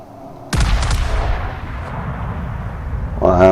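Warship guns fire in World of Warships: one sudden heavy boom, followed by a long rolling rumble that slowly fades. A voice speaks briefly near the end.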